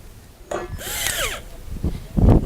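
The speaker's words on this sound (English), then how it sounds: "We're going to tighten the clamp." A clamp is tightened on a sailboat ridge pole, with a few close mechanical clicks and a short metallic squeak and scrape, followed by quieter handling knocks.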